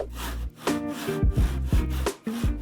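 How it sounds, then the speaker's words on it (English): A miter box hand saw cuts through a 1x4 wooden board in a few rhythmic back-and-forth strokes, each a rasping scrape, close by with no talking. "a 1x4 board and one of these miter box saws"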